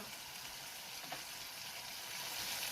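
Crab is stirred with a five-spice mixture in a sizzling pan, and a dense, even frying hiss carries on without a break for the whole stretch, close and moderately loud.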